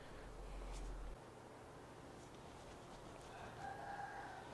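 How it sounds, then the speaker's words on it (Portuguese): A rooster crows faintly and far off, heard indoors behind a steady low background hum. "Gente, que galo!"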